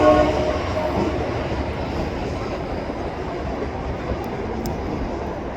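Freight train cars rumbling slowly through a rail yard as they are switched, a steady low mechanical roar with faint metallic squeals near the end, heard from a bridge overlooking the yard.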